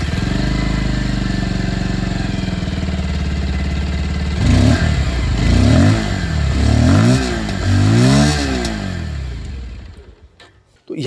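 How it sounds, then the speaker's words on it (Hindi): A new Bajaj Pulsar 150 motorcycle engine idles steadily with a low exhaust rumble, then is revved in several short, rising bursts before dropping away; heard close up, with talk faint beneath. "एग्जॉस्ट साउंड में आप लोगों को एक बार सुना देता हूँ नई वाली यहाँ पर इंजन से ही"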